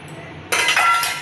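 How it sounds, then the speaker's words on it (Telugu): A cup of water is poured into a pot on a stove, a close, splashing rush that starts abruptly after a brief quiet moment and continues steadily, with no talking. "వాటర్ యాడ్ చేస్తున్నాను"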